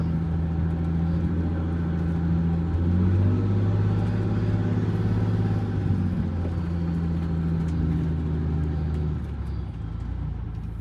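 A Wanderlodge bus with a 6V92TA diesel engine idles and rumbles steadily up close while parking outside a shop, its deep drone holding for about eleven seconds with slight swells in pitch.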